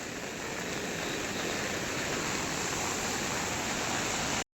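Heavy monsoon rain pours down in a green Sahyadri forest in the Konkan region, a loud, unbroken hiss with no voices, cutting off abruptly at the end.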